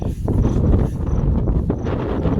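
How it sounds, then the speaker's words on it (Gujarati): Wind buffets the microphone outdoors on a farm in a loud, steady low rumble, with faint high whistling tones drifting through. "પવન બહુ આવે એટલે અવાજ બહુ નહીં આવતો હોય"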